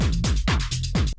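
Tech house track with a loud offbeat clap snapping over a pumping kick and bassline, repeating in a steady four-on-the-floor groove with dense, full-range energy throughout.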